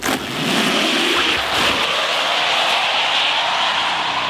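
A second-generation quad-motor Rivian R1T electric pickup accelerates hard, producing a loud, steady rushing roar with a high electric whine that holds for several seconds. No one speaks.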